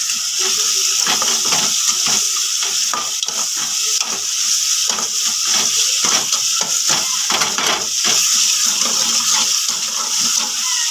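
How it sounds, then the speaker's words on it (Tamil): Tomatoes sautéing in a hot pan for crab soup, a steady loud sizzle with a spoon stirring and scraping in an uneven rhythm throughout, close to the pan with no talking. "தக்காளி நல்லா வதங்கணும்."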